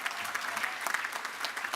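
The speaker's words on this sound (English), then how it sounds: "Can you give that a round of applause?" Brief burst of audience applause at a university graduation ceremony in London, close and fairly loud dense clapping from a large crowd, with no voices heard.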